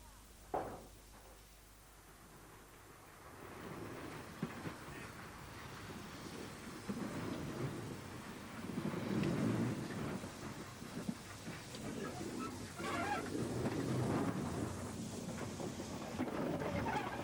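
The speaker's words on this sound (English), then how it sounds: "Having run round its train, number 24 prepares to depart once again for Tenterden" Steam locomotive number 24 stands at Northiam station on a restored heritage line, preparing to depart for Tenterden. A low, distant rumble and hiss slowly build and swell over several seconds, with occasional knocks.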